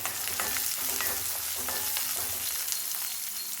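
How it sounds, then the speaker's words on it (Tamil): Dried red chilies and garlic cloves fry in oil in a pan, giving a dense, continuous sizzle with a stirring scrape running through it. "6 காஞ்ச மிளகா போட்டிருக்கேன். இது கூட கொஞ்சம் பூண்டு, ஒரு 5-6 பல்லு பூண்டு போட்டுக்கலாம். இது வதங்கட்டும்."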